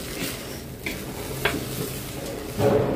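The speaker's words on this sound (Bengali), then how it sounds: "চালটা ভালো করে কষাবো, কষানো হোক।" Rice being stir-fried in a pot for beef tehari: close, steady scraping of the stirring utensil over a soft sizzle, with a louder scrape near the end and no talking.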